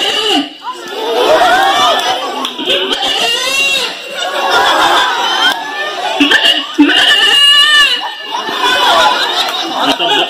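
Goats bleat in wavering cries amid lively crowd chatter and some laughter, with people talking throughout, on a school trip to Hattibet.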